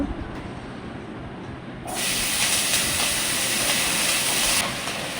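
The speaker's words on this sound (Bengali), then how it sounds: "ঢেঁড়সগুলি নুন হলুদ দিয়ে হালকাভাবে ভাজা নেব।" Okra with salt and turmeric fries lightly in oil in a pan, a steady close hiss that jumps suddenly louder and brighter partway through, with no talking.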